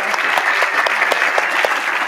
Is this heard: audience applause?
yes